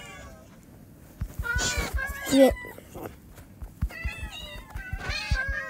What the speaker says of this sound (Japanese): たくさんだ、かわいい猫ちゃんたち。